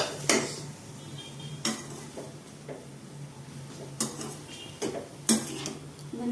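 A spoon clinks and scrapes against a bowl while salad ingredients for a protein salad are mixed, several sharp taps spaced a second or so apart over a quiet, low background hum.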